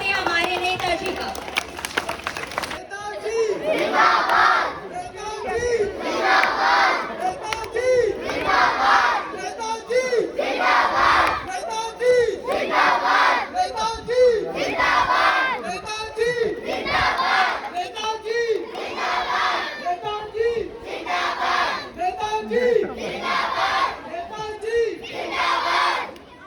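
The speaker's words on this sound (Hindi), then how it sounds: "तो आइए जोरदार तालियों से स्वागत करते हैं हमारे नेताजी का।" An audience at a staged entertainment act welcomes the leader with loud, sustained clapping and shouting that runs in rhythmic surges throughout, crowd voices overlapping the applause.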